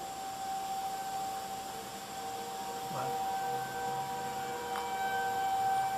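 A civil defense tornado siren sounds during a quarterly test as a steady, faint, distant tone, held with a slight wavering over background hum.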